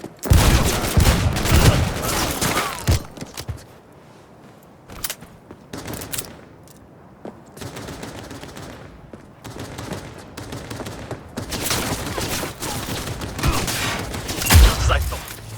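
Rapid bursts of automatic gunfire and single shots crackle through a Cyberpunk 2077 firefight, loud and dense at first, thinning to scattered shots mid-way, then swelling again into heavy sustained fire with a low boom near the end.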